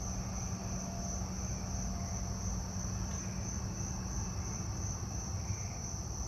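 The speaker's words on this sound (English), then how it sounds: "Let's see what's in the garden here real quick. Carolina ground crickets mostly," Carolina ground crickets trill steadily in a garden, a continuous high buzzing chorus at moderate distance with a faint low rumble underneath, no voices.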